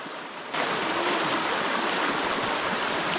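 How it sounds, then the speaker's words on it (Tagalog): Steady rushing of river water flowing beside a campsite in Malico, a broad continuous wash that swells suddenly after a brief quieter start and then stays loud and even. "Dahil napakalapit natin sa ilog"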